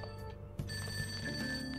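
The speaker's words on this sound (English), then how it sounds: "That ringing sound isn't coming from my cell phone." A telephone ringing downstairs in the video game Persona 5, a faint, steady electronic ring tone heard briefly over a soft background.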